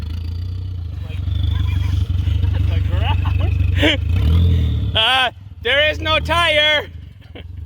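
A vehicle engine revving hard during an attempted tire burnout, a loud rough drone that rises and falls, with people talking over it near the end.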